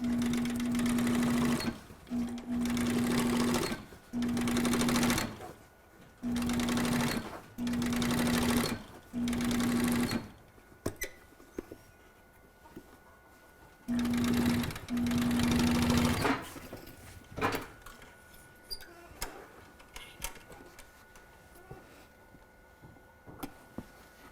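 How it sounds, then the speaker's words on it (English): Sewing machine stitching reed tape onto a custom hat, running in a series of short, even bursts with brief stops between them, followed by quieter handling clicks and rustles. "sew the reed tape to the hat"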